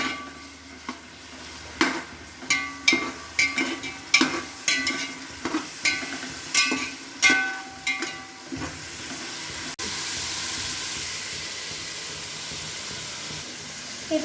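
Onions sizzling in hot oil in a pan, with a run of sharp, rhythmic stirring scrapes at close range for several seconds, then settling into a steady frying hiss.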